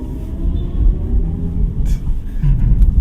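BMW i4 eDrive35 electric car accelerating hard in sport mode, heard from inside the cabin as a low, continuous road-and-motor rumble that swells slightly, with brief voice sounds.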